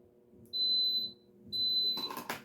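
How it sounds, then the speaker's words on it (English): A sublimation oven for tumblers gives two long, loud electronic beeps of about half a second each, a second apart, followed by a brief clatter of handling. "so it's beeping"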